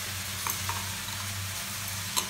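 Potato and eggplant fry in a pan for a begun ghonto dish, giving a steady close sizzle with a few soft clinks and stirring sounds. No one speaks.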